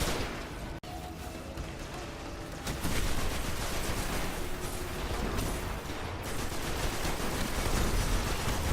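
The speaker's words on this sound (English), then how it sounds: "Oh shit, that guy's shooting the crap out of me." Gunfire in the video game Destiny 2, a dense continuous stream of shots and impacts that grows louder partway through, sustained and busy with no clear talking.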